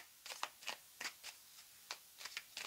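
Tarot cards being shuffled and cut by hand, a quiet, close series of soft papery riffles and taps in uneven bursts, with no talking.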